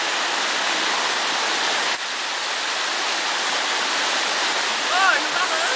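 A waterfall roars with a steady, loud, continuous rush of water close by. A faint tonal sound briefly shows through the noise near the end.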